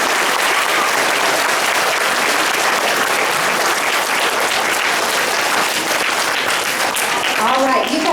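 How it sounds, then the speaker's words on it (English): An elementary school spelling bee audience gives loud, sustained clapping that fills the room for several seconds, then thins out toward the end as a voice begins. "Round of applause for the first round."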